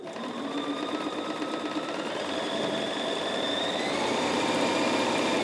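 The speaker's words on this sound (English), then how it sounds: "Now let's take that to the sewing machine." Sewing machine stitching a fabric trick-or-treat tote, a close, steady mechanical whirring drone of rapid needle strokes running continuously and growing slightly louder toward the end.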